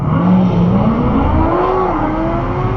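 A built 900 HP Corvette Z06 drag racing, its engine roaring loud and close as it accelerates hard, pitch climbing steadily through the gear with no talk over it.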